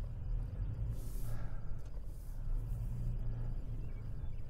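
A 2022 Toyota Tacoma SR5 Trail 4x4 with skid plates creeps over an off-road obstacle, its engine a low steady rumble with faint scrapes and a brief hiss.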